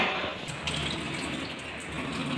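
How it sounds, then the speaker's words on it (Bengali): Water at a rolling boil with chowmein noodles in a pot on the stove, a close continuous bubbling gush with fluttering churn, steady throughout with no talking. "জলটা কিন্তু খুব টকবক করে ফুটে গেছে"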